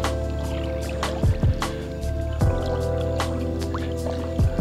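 Live sardines flapping and splashing in a bucket of seawater on the shore, several brief wet slaps at irregular intervals over steady surf-like noise, close and fairly loud, without talking.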